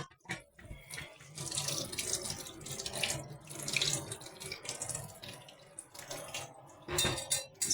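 Kamote (sweet potato) vines are washed under a running kitchen tap, water streaming steadily into a sink with occasional clinks of pots and dishes, close and continuous.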